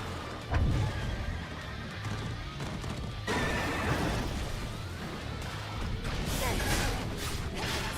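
In the Stellar Blade video game, a horse creature whinnies among loud battle noise, with a sharp impact near the start and grinding, clattering effects continuing to the end.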